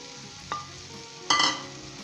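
Potatoes are stirred into softened tomatoes frying in a pan, over a steady low sizzle with two spoon-scrape accents, the second louder and longer, close up and with no talking.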